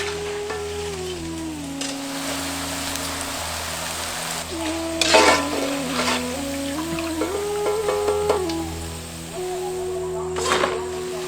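Pakoda fritters sizzle in hot oil as they are turned over, a steady close frying hiss with occasional louder crackles and scraping stirs, over a background tone.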